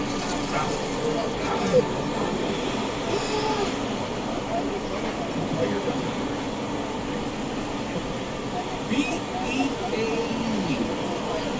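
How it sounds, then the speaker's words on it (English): A Universal Studios Hollywood studio tour tram rumbles and rattles steadily along at about 8 mph, with continuous low mechanical noise and faint murmuring voices mixed in. "Now this tram only goes 8 miles per hour"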